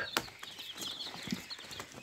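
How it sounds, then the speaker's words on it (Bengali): Young tiger chicken chicks on a farm give faint, scattered high chirps and peeps, quiet and close, with soft background noise and no talk. "এগুলো হলো টাইগার মুরগির বাচ্চা।"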